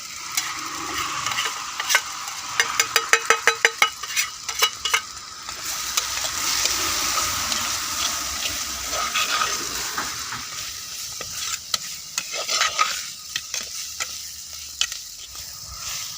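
A spatula stirs a spice masala of coriander, chili and turmeric powder with salt, sizzling in a pan for Karnataka-style fish curry: rapid rhythmic scraping strokes, then a steady loud frying hiss with occasional clinks.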